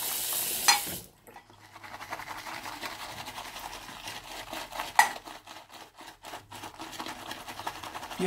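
A wet shaving brush whips Pirata shaving soap into lather inside a wet bowl before a double-edge razor shave, giving a steady swishing, stirring churn with a few sharper clinks against the bowl.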